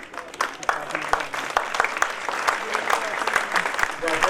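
At an Arya Samaj foundation-day gathering in Malviya Nagar, an audience applauds in a steady, moderately loud patter of many hands for over four seconds, with some voices mixed in.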